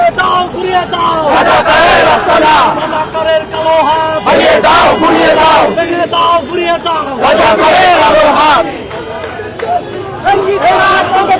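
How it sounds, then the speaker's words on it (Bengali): Student activists chant slogans in front of Shahbag police station, a loud, close crowd shouting in rhythmic bursts that rise and fall with short gaps between chants. "এখনো শাহবাগ থানার সামনে ছাত্র দলের নেতাকর্মী কর্তৃক বিভিন্ন স্লোগান কিন্তু দেওয়া হচ্ছে"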